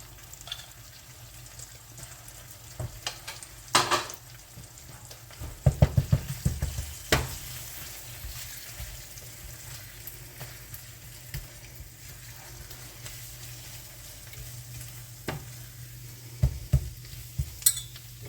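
Breakfast sausage sizzling in a pan at close range, a steady low fry broken by clusters of scraping stir strokes and spatula knocks, with louder bursts in the middle and near the end.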